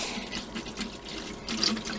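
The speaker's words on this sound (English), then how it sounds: "we are going to fill it with distilled water" Distilled water pours steadily into a hydroponics container, a continuous close splashing stream that brightens slightly near the end.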